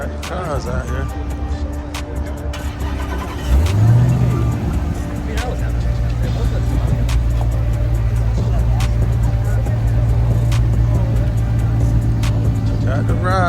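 Cars rumble by on the 285 Loop, a loud, continuous low engine drone with a rising whine as one vehicle accelerates, while someone talks over the traffic noise.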